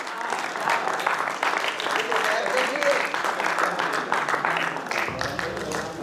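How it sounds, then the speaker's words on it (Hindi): Audience at a Hindi poetry and shayari evening clapping steadily, a dense, even round of applause filling the whole stretch without a break. "थोड़ी तालियां भी बजा दीजिए आज इसी के बहाने।"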